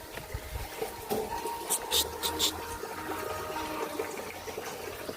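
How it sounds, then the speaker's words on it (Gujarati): Steady rain pours down in a continuous wash of noise, with voices talking quietly underneath. "વરસાદ ચાલુ થઈ ગયો છે"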